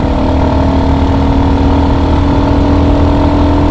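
Motorcycle engine running steadily on a ride to Khandala while the rider shifts into third and then fourth gear, a loud, continuous close drone with a constant level throughout.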